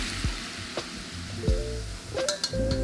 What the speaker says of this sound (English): You should hear it sizzle as soon as the oil hits the scallion ginger.